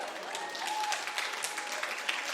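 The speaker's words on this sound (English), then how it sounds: "You're cheering that" A live comedy podcast audience cheering and clapping steadily, close and dense, with whoops and sharp claps poking through the sustained applause.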